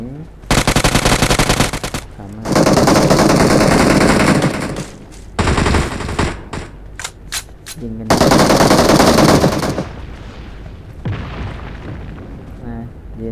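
PUBG Mobile gunfire: loud, close bursts of rapid automatic fire in several long volleys, broken by a few sharp single shots and gaps, with faint game sounds between bursts.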